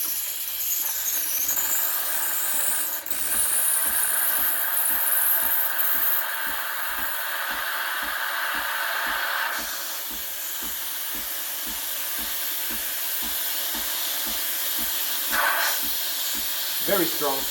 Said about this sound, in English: Turn it the other way and you'll get steam.